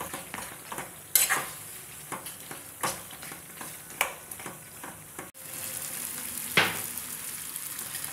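Mutton sukka, a restaurant-style dry mutton dish, being stirred in a frying pan: a steady sizzle with scraping spoon strokes at irregular intervals, close up and without talk.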